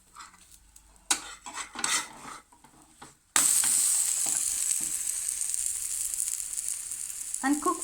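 A chickpea omelette in a pan, first with scattered scraping and clinking of utensil on pan, then a sudden loud sizzle as it is flipped, the frying hiss steady and close to the end.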